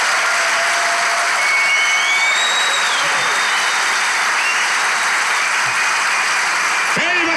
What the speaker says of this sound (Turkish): İlişki testi yeni bölümüyle alkışlarla başlıyor.